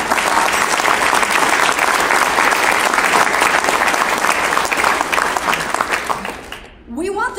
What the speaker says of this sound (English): Would you join me in giving him a round of applause?